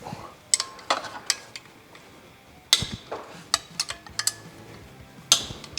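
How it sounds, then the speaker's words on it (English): Two 12mm bolts being removed from a shifter bracket on a 2022 Subaru WRX, close metallic ticks and ratcheting clicks in irregular bursts with short pauses, no voices. "So take these 2 12mm bolts out."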